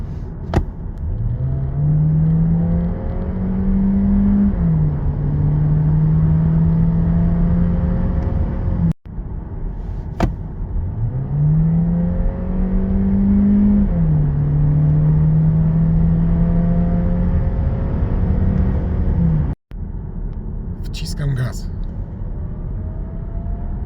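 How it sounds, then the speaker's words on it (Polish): A 2025 Skoda Superb Combi's electric motor whines steadily upward in pitch as it accelerates on electric power alone, twice in a row, under constant road rumble. "Całkiem sprawnie auto jedzie na samym prądzie."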